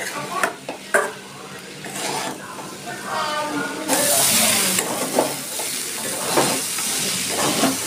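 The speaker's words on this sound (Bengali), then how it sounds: "আমি এই পর্যায়ে আঁচটাকে একদম লোতে রেখে আস্তে আস্তে করে এটাকে একটু কষিয়ে নেব।" An onion mixture for a chana-matar snack being stir-fried slowly over a low flame: a spatula scrapes and knocks in the pan over a gentle sizzle, while a person talks throughout.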